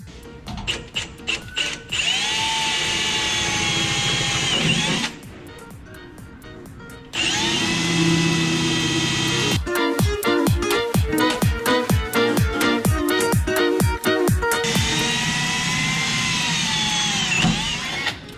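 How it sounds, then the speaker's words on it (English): A power drill whines in long, loud bursts, stopping and starting, with stretches of rapid ratcheting clicks as it bores a pilot hole through a thick metal firewall of an HQ Holden Belmont wagon up close. "So as always, drill a pilot hole first."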